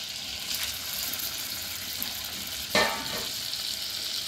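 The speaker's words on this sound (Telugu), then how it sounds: "కొద్దిగా వేగాలి." Whole spices (bay leaf, peppercorns, shahi jeera, cardamom, cloves, cinnamon) frying in melted butter in a pan give a steady, close, soft sizzle, broken by one brief utensil clink near the end.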